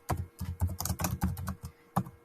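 Rapid, uneven keystrokes on a computer keyboard, close and fairly quiet, clicking in short bursts with brief pauses between them.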